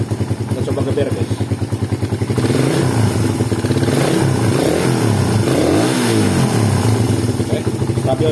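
Honda Mega Pro fuel-injected motorcycle engine revved repeatedly close up, loud throttle blips rising and falling over a steady idle, with a voice talking over it at times.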